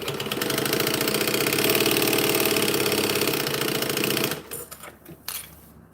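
A sewing machine runs steadily at speed, a loud close mechanical hum and rapid stitching clatter that holds for about four seconds and then stops abruptly, leaving quieter handling noises.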